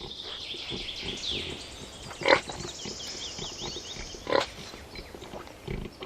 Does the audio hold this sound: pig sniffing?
yes